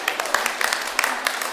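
Scattered audience applause at a Punjabi comedy stage drama, a soft wash of clapping with sharper claps poking through, steady and close for a second and a half with no one talking over it.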